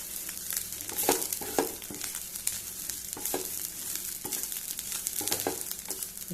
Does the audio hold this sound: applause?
no